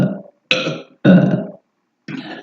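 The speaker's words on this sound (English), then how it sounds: "We could burp quite a bit." Four loud, close belches come one after another with short silences between them. The third is the longest and most forceful, in a casual podcast studio setting.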